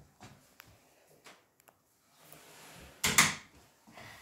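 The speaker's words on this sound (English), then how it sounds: "I locked this door here so Daisy don't come out, the prisoner." A door closing and locking in a video game, with a sharp, loud clunk at mid-clip after scattered quieter clicks and taps, alone without talk.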